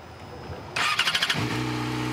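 A used 600 cc sport motorcycle cranks with a rapid starter whir, then catches and settles into a steady close idle, loud and with no speech.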